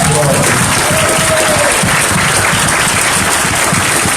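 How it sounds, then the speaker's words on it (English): Crowd applause at a 2019 Israelite summit in Atlanta, Georgia: a steady, dense wash of clapping that holds loud and even throughout, with voices mixed into the noise. "Give these men a round of applause"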